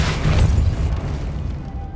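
The Depulso spell fires in Hogwarts Legacy on PS5 with a heavy, booming blast up front that rolls off into a fading rumble over about two seconds.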